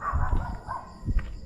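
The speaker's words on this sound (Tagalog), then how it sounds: "May aso doon sa unahan." A dog near a cemetery gives a few short barks, two quick ones then a pause and another pair, fairly near and moderately loud.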